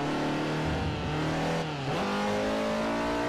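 Toyota Supra engine racing in Forza Motorsport 4, a steady loud drone that holds pitch, then dips and climbs again near the middle as the car shifts or lifts, with faint tire noise underneath.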